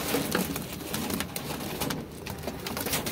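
Caged pigeons, both young birds and adults in a home loft setup, coo and flutter continuously and close by, filling a busy, noisy backdrop.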